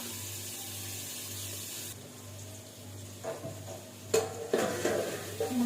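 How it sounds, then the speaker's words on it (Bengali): Water runs at a sink under a low hum, followed by a few clinks and scrapes of dishes being handled, moderately close. "বাসন মাজা হয়ে গেল"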